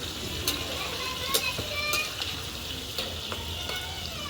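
Bitter gourd pieces fry in a pan over a wood-fired stove, giving a steady close sizzle with a few sharp spatula clicks and scrapes as they are stirred.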